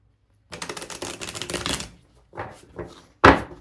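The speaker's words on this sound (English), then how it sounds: "Feel free to fast forward through the shuffling if you want." An oracle card deck is shuffled by hand in a quiet room: a quick run of dense riffling clicks, then a few shorter shuffles and a sharp final snap of cards.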